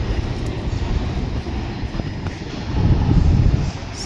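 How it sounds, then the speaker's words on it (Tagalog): A train rumbles past at Expo Park in Taiwan, a heavy low drone with rising intensity toward the end, heard outdoors without talk. "Ayun yung train."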